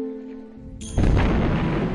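A cannon fires a 50-pound cannonball in a single shot, a sudden loud boom bursting in after a quieter stretch and rolling on as a sustained roar with no voices present.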